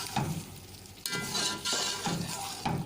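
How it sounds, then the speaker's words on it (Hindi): Mutton fries in cooking oil in a karahi, a moderate sizzle rising and falling as it is stirred, with brief scraping and a sharp clank partway through. "और इसकी अब हम भुनाई करेंगे।"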